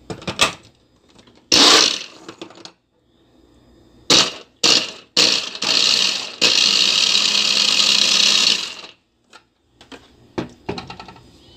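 A blender whirs in loud bursts, a couple of short pulses followed by a longer steady run, with clattering handling sounds before and after.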